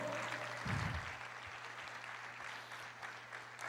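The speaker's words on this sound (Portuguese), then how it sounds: "Aplauda, pode aplaudir o Senhor" Applause from a church congregation during a sermon, a steady broadband wash of many hands clapping at moderate distance, lasting several seconds with a low hum underneath.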